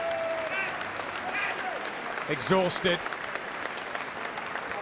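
Applause and crowd noise at a boxing match between Jamie Moore and Matthew Macklin, steady clapping with a brief swell, while a commentator speaks over it.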